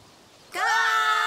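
Human voices imitate birds of prey with a sudden, loud, sustained screech after a brief quiet moment, heard in a scene from the game A Plague Tale: Requiem.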